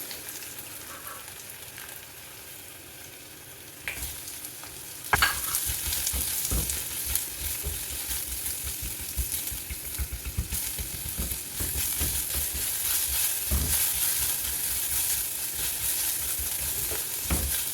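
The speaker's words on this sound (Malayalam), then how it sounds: "ഒരു മീഡിയം സവാളയുടെ പകുതി നീളത്തിലരിഞ്ഞത് ചേർത്ത് കൊടുക്കാം" Half a medium onion, sliced lengthwise, hits hot oil with ginger and garlic for a Kerala fish molly. A steady, loud sizzle runs throughout, with sharper stirring scrapes and clatters breaking through now and then.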